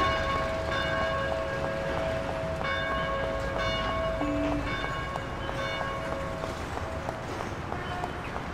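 Bell tolling four times in the Mafia video game, steady ringing strikes over a constant low hum of background ambience.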